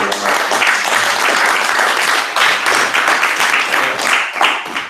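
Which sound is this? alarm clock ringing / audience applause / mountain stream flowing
audience applause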